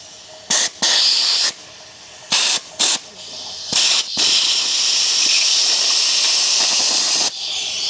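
Air hissing from the dump valve on a Freightliner Classic truck fitted with ConMet hubs, several short loud bursts of escaping air and then one long sustained hiss, sharp-edged and close.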